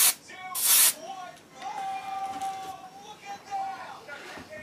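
An airbrush lays a light dusting of gold paint onto a trout-pattern jerkbait, giving two short hissing bursts near the start while a voice talks over and after them.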